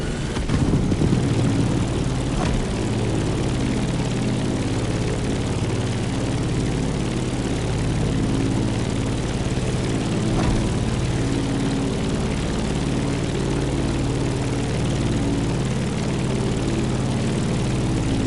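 A propeller airplane in the video game The Crew Motorfest drones loudly and steadily while climbing, its engine hum and prop buzz continuous and unbroken throughout.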